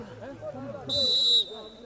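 A referee's whistle sounds at an eight-a-side football league match, one steady shrill blast of about half a second cutting through continuous commentary.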